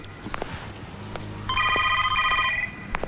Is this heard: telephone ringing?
yes